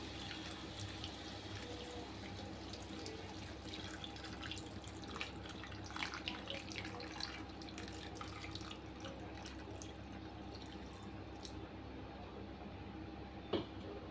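Hot water pours steadily and quietly into a pan of chicken mince balls, a soft continuous trickle with a few faint clinks near the end.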